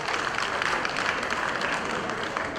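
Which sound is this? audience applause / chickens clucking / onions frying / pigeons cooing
audience applause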